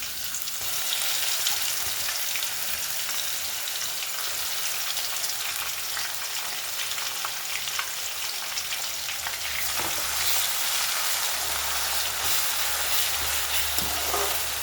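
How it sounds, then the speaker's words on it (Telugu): Ground curry leaf, green chilli, ginger and garlic paste frying in a pan gives a dense, continuous close-up hiss and sizzle that holds steady throughout and grows a little stronger toward the end, with occasional light stirring. "కరివేపాకు, పచ్చిమిర్చి, అల్లం, వెల్లుల్లి పేస్ట్ వేసేస్తున్నాను."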